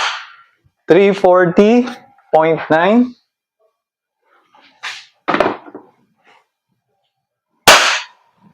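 A Umarex Glock 17 Gen 5 gas airsoft pistol fires through a chronograph, giving sharp single snaps heard a couple of times after stretches of speech, with a loud crack near the end.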